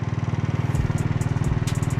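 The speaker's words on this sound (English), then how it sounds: "we got her running, and it is idling so smooth." A scooter's small engine idles close by with a rapid, even putter, its steady pulsing throb broken by a few faint clicks.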